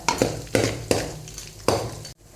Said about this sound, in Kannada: ಒಂದೂವರೆ ಚಮಚ ಉದ್ದಿನಬೇಳೆ ಹಾಕೊಂಡು ಸ್ವಲ್ಪ ಹುರ್ಕೊಳ್ಳುವ